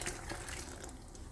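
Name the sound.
water poured into a blender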